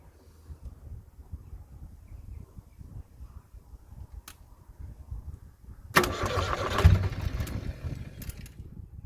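A van engine firing on two cylinders: after quiet cranking-like rumble, the engine abruptly catches around six seconds in, running loud, rough and uneven close by until the end.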